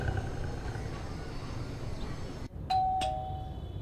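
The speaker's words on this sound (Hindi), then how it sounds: "हाँ घंटी। देख कौन है?" A doorbell chimes indoors in a home, a clear electronic ding ringing out after a moment of quiet and fading away, with low room rumble beforehand.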